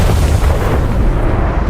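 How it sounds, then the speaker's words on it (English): A catastrophic explosion shakes the earth as a sound effect, a loud, heavy blast whose deep booming roar rumbles on without a break. "A catastrophic explosion shook the earth."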